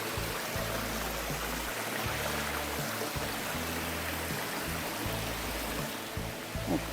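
Rushing water pours steadily at Krushuna Falls in Bulgaria, a park with a whole complex of waterfalls near a cave, giving an unbroken broadband roar with low rumbling throughout and no voices.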